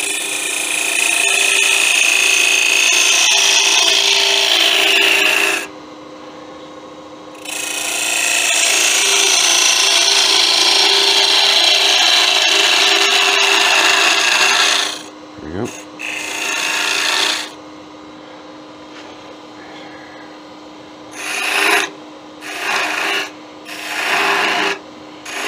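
Woodworking hand tools rasp and rub against a wooden Venus figurine being trimmed on a lathe, a loud continuous scraping in long stretches broken by pauses and short bursts, with no talking.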